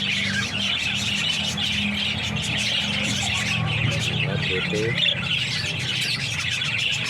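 A pet bird chirps and tweets repeatedly in short bursts, close by, while a person talks over it and traffic hums faintly in the background.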